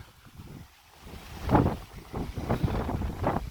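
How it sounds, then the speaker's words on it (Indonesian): Strong wind gusting across a beach, buffeting the microphone with low rumbling bursts that build and swell in waves, loud and close with no voices. "Kencang banget, guys. Anginnya sangat kencang."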